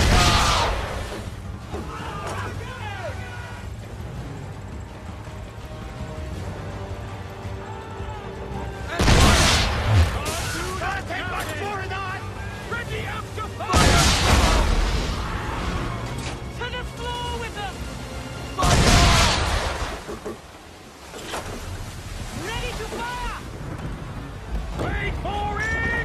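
Ship cannons fire during a naval battle in the video game Assassin's Creed 3: three loud, booming broadside volleys about five seconds apart, heard over shouted voices and a busy game soundtrack.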